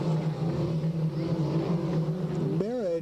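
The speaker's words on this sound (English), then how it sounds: "Merritt gets his hot rod going." A dwarf race car engine at Marysville Raceway drones steadily under a commentator's voice, then revs up and down sharply near the end.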